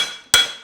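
A single sharp, ringing hammer blow lands close by on a Mustad specialty Hunter front horseshoe during forging, flattening the shoe.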